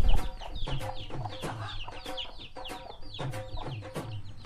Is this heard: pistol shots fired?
no